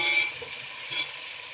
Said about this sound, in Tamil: தக்காளி வதங்கிட்டு இருக்குது